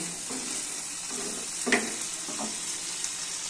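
Katla fish curry frying in a pan as a little water is added, a steady broad sizzle with a brief louder hiss and a few stirring clicks, close and continuous.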